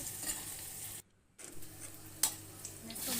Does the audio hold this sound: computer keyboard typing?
no